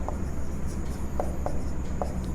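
Marker or chalk strokes on a board during a physics lecture come as a handful of short scratchy squeaks spaced unevenly over a low steady room hum, with no talking.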